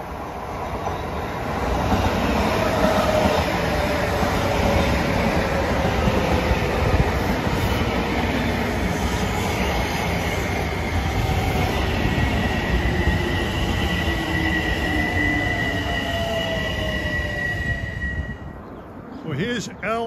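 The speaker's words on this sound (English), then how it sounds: "Approaching at 4:22 is train 1656 from Grand Central to Huntington." Long Island Rail Road train 1656 from Grand Central to Huntington rumbles into a station with a loud, continuous roll of wheels over rails and long squealing brake tones, easing off toward the end as it stops.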